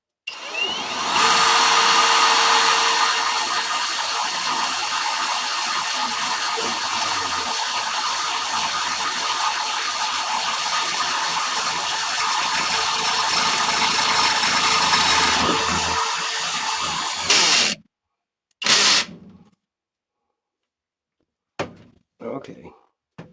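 Power drill bores holes while building a cutlass handguard, one long continuous whine lasting around sixteen seconds, then stopping, followed by a couple of short bursts and a few thumps and clicks.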